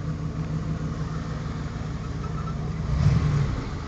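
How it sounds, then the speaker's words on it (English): A 1976 Dodge Crewcab engine runs steadily at idle, a smooth low rumble close by that swells slightly near the end. "Motor runs real good."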